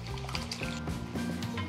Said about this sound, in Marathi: आता हे असेच पाण्यासकट यामध्ये घालूयात